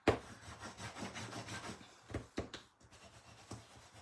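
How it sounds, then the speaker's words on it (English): Patterned paper stuck onto cardstock is burnished with quick, soft rhythmic rubbing strokes, close and quiet, with a few sharper scrapes. "Now this will need a good burnish"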